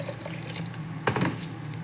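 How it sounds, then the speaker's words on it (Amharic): Water, about two cups, is poured into gemat dough made with a little oil, giving a soft, brief splashing pour that rises midway over a quiet background. "ያው ውሃ እናስገባለን ማለት ነው።"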